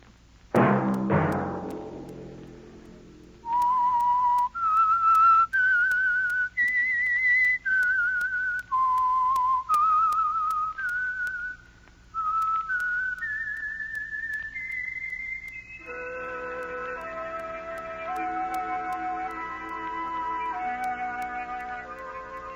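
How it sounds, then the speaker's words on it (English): A clear, solo whistled melody, the theme tune of the 1951 radio drama The Whistler, rises in distinct sustained notes before a sustained orchestral chord with layered tones takes over. "Let that whistle be your signal for the Signal Oil program"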